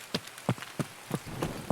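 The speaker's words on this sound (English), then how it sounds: "Sorry for the rain." Rain falls in the Escape from Tarkov game on Shoreline, a steady hiss with a run of regular, sharp thudding impacts roughly three times a second, moderately loud and free of talk.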